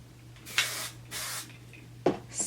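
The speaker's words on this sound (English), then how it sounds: "So I'm going to take my big sexy hair spray and play." Hair spray from an aerosol can is sprayed onto hair in two short hissing bursts, followed by a sharper spritz near the end, close and fairly loud over a low background hum.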